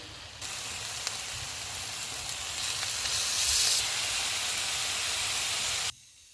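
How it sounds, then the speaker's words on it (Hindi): Chicken pieces frying in hot oil on medium heat give a steady, close sizzle that swells briefly partway through, with no voices over it. "ऑयल गर्म हो गया, इसमें चिकन के पीसेस रख देंगे। चिकन को पकाते हुए चूल्हे को मीडियम रखेंगे।"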